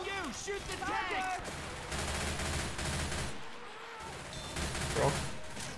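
Rapid gunfire aimed at the Tank in Left 4 Dead 2, with dense bursts of shots under players' voices calling out over game chat, and game sounds mixed in throughout.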